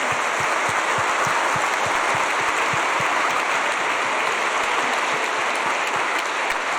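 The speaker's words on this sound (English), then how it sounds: "Round of applause." Steady applause from a conference audience, dense clapping that holds at an even level for several seconds.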